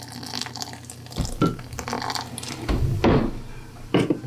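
Busch Light beer pouring and splashing into a bowl of batter for frying bullfrog, a close, gurgling liquid stream with a few louder splashes and knocks.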